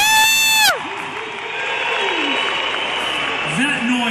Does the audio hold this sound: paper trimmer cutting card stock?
no